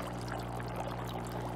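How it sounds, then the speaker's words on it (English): A HoMedics Premium foot spa hums with a steady low vibration while water bubbles and gurgles softly in the basin, faint and continuous with no speech. "I hope you can see there is vibration in the water and the bubble"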